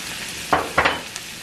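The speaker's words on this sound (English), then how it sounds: "And we're gonna cook it with the butter, okay?" Flour stirred into melted butter in a pan, a soft continuous sizzle broken by a few short scraping stir strokes close by.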